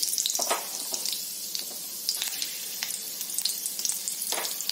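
Cumin and green chili fry in hot oil in a kadhai, a constant crackling sizzle close by, with sputtering pops scattered throughout.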